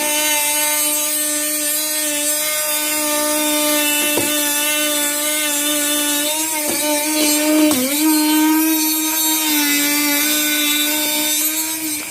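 A power saw cuts out a cubby panel on a Yamaha Wolverine side-by-side, a loud, steady high-pitched whine held throughout at close range, with a few brief clicks and pitch dips as the blade bites.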